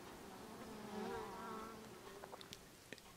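Bees buzz close by in a soft, wavering hum, with a few brief nearer passes and small clicks near the end. No voices are heard.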